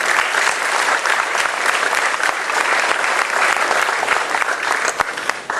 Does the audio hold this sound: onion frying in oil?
no